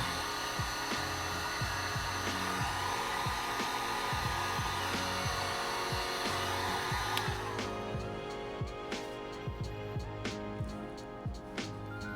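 A heat gun blows steadily on a 3D printed Green Goblin mask, a loud continuous airy roar for about seven seconds, then drops lower and rougher with faint tapping and clicks under it.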